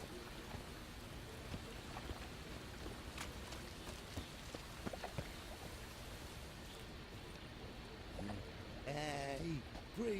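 Steady rain falls in The Witcher 3, a constant soft hiss with scattered drops and some faint clopping, while someone talks quietly over it and a voice rises near the end.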